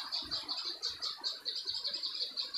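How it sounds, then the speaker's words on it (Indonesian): Many birds call in overlapping high chirps near rice paddies by a yellow bamboo grove, a steady rhythmic chorus of repeated notes with faint low rustling beneath and no voices. "Ini ada suara-suara burung banyak."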